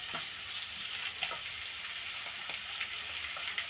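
Chopped tomato sautés with salt in a pan for urad dal chutney, giving a steady, close sizzle and crackle with occasional brief pops and stirring scrapes throughout.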